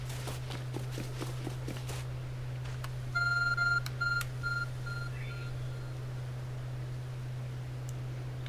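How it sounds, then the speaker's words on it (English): A glowing, phone-like object in Pokemon Legends: Arceus gives off a string of short, bright electronic beeps in a few quick bursts. Footsteps run over a steady game hum. "There's a glowing beeping object over there."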